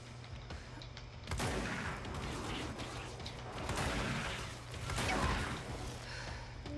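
Enemy gunfire and grenade blasts in the video game Control, a rough stream of shots broken by louder bursts and crashing impacts that swell and fade over several seconds.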